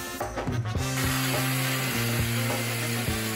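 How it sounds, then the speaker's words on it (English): Power tools running off a 3000-watt pure sine wave inverter powered by a golf car whir steadily with a sharp high whine, the motor pulsing in short regular bursts, loud and close. "we will plug in power tools that would be used at a typical remote job site."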